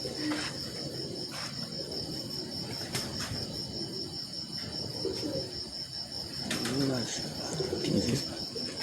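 Champion breeder pigeons coo in a loft in Haripur, soft low burbling calls toward the end over a steady chirp of crickets, with someone talking nearby.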